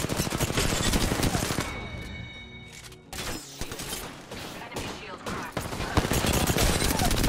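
Gunfire in the Apex Legends video game, including the G7 rifle, comes as rapid, loud bursts of shots. The bursts cluster at the start and end with a brief lull in the middle, and no talk rides over them.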